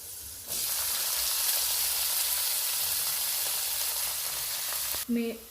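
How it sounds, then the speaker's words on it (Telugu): Fenugreek (methi) leaves dropped into hot oil with cumin for a garlic-methi curry burst into a loud, steady sizzle from about half a second in, holding strong for several seconds before a brief clatter at the end. "ఇప్పుడు మేతి వేసుకుంటున్నాం."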